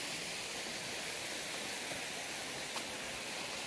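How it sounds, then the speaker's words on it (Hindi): A small waterfall along a forest path near a bridge, heard as a steady, broadband rush of falling water that holds even and continuous throughout, with no voices over it. "वाओ, झरना भी है छोटू सा।"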